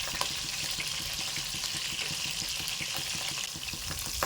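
Bitter gourd (kakarakaya) frying in oil in a pan gives a dense, steady, loud sizzle peppered with constant small crackles and pops, close by, with no talking.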